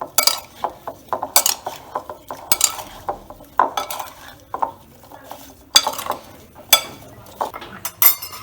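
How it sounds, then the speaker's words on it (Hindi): Repeated scraping and clinking of a spoon against a bowl as carrots are stirred and tossed with salt and turmeric, in uneven bursts, close up. "अब इन सब चीज़ों को अच्छे से मिक्स कर लेंगे"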